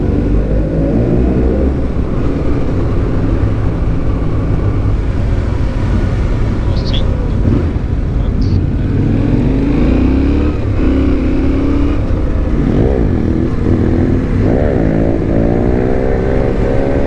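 Motorcycles ride through limestone-cliff tunnels on a mountain road near Pluzine, Montenegro, with loud, sustained engine roar, rising revs and echoing reverberation throughout, heavy wind rumble underneath.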